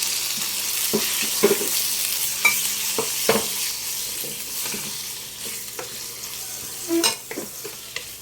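Pork and liver fry in a pan with garlic, onion and chili, a steady close sizzle broken by frequent scraping stirs and light clinks of the utensil against the pan.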